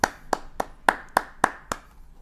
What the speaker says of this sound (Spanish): antes un fuerte aplauso